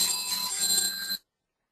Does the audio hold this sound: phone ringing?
yes